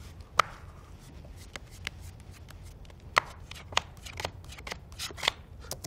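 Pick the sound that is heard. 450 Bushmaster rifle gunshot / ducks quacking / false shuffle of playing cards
false shuffle of playing cards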